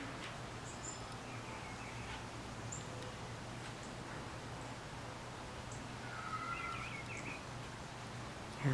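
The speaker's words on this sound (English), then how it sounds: "Hear those birds chirping? Doesn't that sound pretty?" Faint bird chirps outdoors, scattered high calls over a steady low hum and soft ambient rustle, with a slightly louder cluster of chirps near the end.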